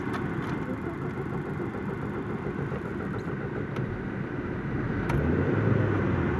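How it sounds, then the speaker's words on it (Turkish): A Lada Vega car engine runs after its throttle body and idle system were cleaned, giving a steady, close, low idling hum that swells slightly louder near the end. "Onun dışında şimdi bir de araç çalıştıracağız."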